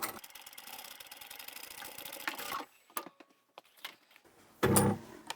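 A sewing machine stitching fabric, a steady rapid mechanical whirring run that stops partway, followed by a few clicks and then a brief final burst of stitching, close and clear.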